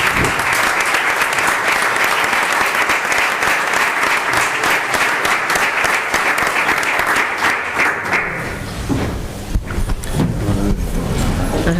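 An audience at a formal academic ceremony opening the academic year applauds an honorary academician receiving a diploma and medal. The clapping is dense and steady for about eight seconds, then stops abruptly, leaving low room rumble and scattered shuffling.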